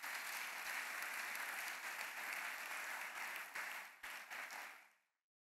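A church congregation applauds steadily for several seconds, a broad, even wash of many hands clapping together that fades out abruptly at the end.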